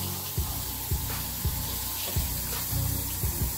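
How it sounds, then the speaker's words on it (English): Water runs and splashes steadily over Irish moss seaweed as it is rinsed, a close, continuous wash with faint handling sounds. "we're gonna just kinda rinse it"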